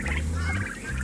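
Turkeys in a pen making a brief, close gobbling and fowl chatter over a steady low background, lasting about a second with no talking.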